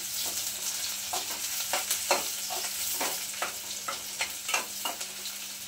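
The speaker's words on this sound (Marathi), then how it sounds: "त्याच्यामध्ये कांदा घालायचा आहे आपल्याला आणि कांदा सुद्धा छान असा गुलाबी रंगावरती आपल्याला परतून घ्यायचा आहे" Garlic and onion fry in hot oil with a constant moderate sizzle, punctuated by repeated scraping strokes of a spatula stirring the pan, with a faint low hum beneath.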